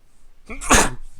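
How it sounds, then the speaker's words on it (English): A single loud sneeze from a person during Dota 2 match commentary, a short sharp burst after a brief inhale, close to the microphone. "I haven't sneezed in forever."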